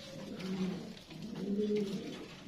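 Fancy pigeons cooing in a small cage, two close, low rolling coos in succession, fairly soft against a quiet room.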